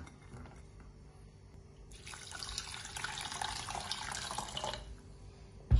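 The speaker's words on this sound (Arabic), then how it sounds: "حطت حوالي كوبين مي فوق الجزرة" Roughly two cups of water pour from a tap into a pot of small diced carrots, a steady splashing stream that starts about two seconds in and runs close and loud for nearly three seconds before stopping.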